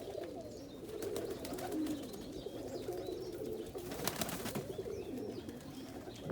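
A friendly Indian Fantail agate hen pigeon coos steadily and softly, with a continuous low rolling murmur of cooing and faint outdoor background noise throughout.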